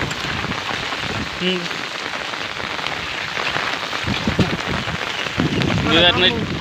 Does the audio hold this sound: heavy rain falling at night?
yes